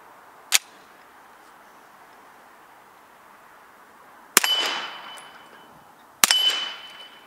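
A CZ 75 SP-01 Tactical pistol fitted with a Silencerco Osprey suppressor fires three sharp, muffled shots outdoors about 15 yards from targets, spaced several seconds apart, each followed by a short ringing clang or tail.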